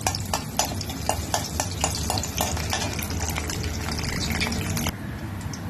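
Spices go into hot oil for tempering, producing a loud, close crackling sizzle with rapid sharp pops and stirring scrapes early on, then settling into a steadier hiss.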